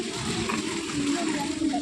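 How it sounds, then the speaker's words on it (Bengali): Rainwater flowing steadily along a waterlogged, muddy road after heavy rain, a continuous close rushing wash under a voice speaking. "এখনও পর্যন্ত জল বয়ে যাচ্ছে দেখো"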